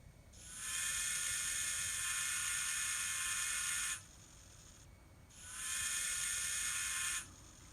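Two sustained electronic horn blasts from a Digitrax N scale sound decoder in a Kato FEF-3 4-8-4 model locomotive, each about three seconds long, separated by a short pause, loud and steady over a faint low rumble.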